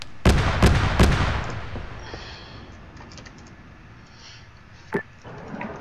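Mortar fire in a military shooter game: three quick heavy booms in a row with a long rumbling decay, then a quieter stretch before one more sharp blast near the end.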